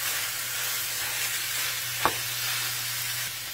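Ground beef and onions frying in a pan for goulash give a steady close sizzle, with one brief scrape or clink of a utensil partway through.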